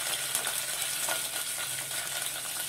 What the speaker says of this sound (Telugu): ఉల్లిపాయ వీటిని ఫ్రై చేసుకోవాలి